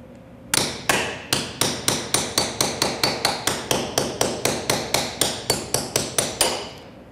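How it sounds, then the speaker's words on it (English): A hammer strikes a hard slab of torrone almond nougat about twenty times in a steady rapid rhythm, each blow a sharp, close crack cutting through, with no talk. "I got to cut it with a hammer."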